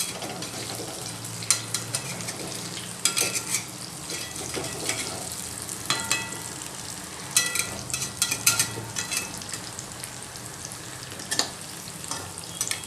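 Boiled horse gram dumplings (shengole) fry in oil in a kadhai, a loud, continuous crackling sizzle broken by bursts of spatula stirring and scraping throughout, with no talk.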